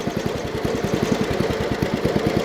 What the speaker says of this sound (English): These old engines like to idle nice and low